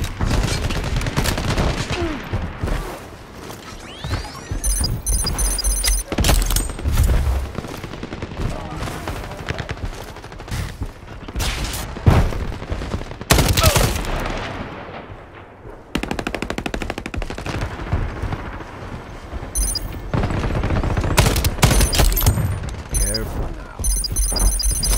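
A-3 Pilum assault rifle fire in a Shatterline PvP match: loud, close automatic bursts in repeated rapid strings with short pauses, mixed with game effects and beeping tones.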